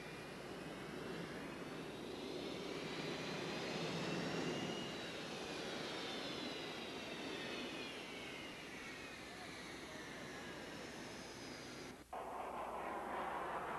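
Military jets, including an F-14 Tomcat, a modified A-4 Mongoose and a modified T-38, fly overhead in a loud continuous roar with sweeping whine tones that rise and fall, cut by a brief dip near the end.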